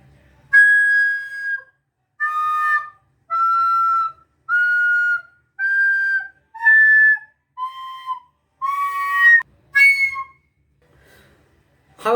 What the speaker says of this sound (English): If the blow is too strong, the sound will be shrill and unpleasant.